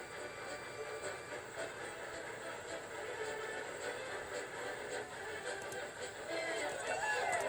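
A steam engine puffs and roars steadily throughout, a continuous mechanical roar with faint rhythmic clatter, under speech-like sounds.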